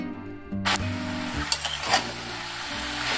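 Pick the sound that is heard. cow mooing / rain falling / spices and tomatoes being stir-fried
spices and tomatoes being stir-fried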